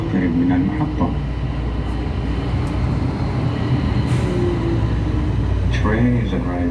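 An airport train at Jeddah airport pulls into a station with a loud, steady rumbling roar of wheels and motors, while a recorded announcement voice plays over it near the start and end.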